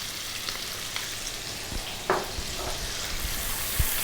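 Garlic sizzles in a hot pan with a steady crackling hiss and a few soft clicks, close and fairly quiet, with no talking over it.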